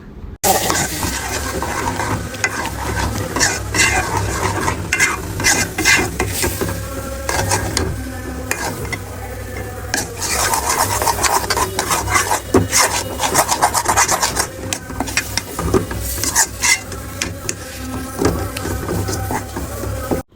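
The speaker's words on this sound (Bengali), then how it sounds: "এভাবে অনবরত লাড়তে লাড়তে দেখবা তৈরি গেল আপনার তোষা সিন্নি" Steady, unbroken scraping and rubbing as Sylheti shirni rice pudding is stirred continuously in a pan, a dense, loud, close rasping texture that never pauses.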